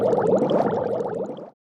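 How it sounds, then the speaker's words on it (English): Dense bubbling and gurgling liquid sound effect, a close, steady burst of bubbles lasting about a second and a half before cutting off abruptly, with no voices. "And lots of bubbles."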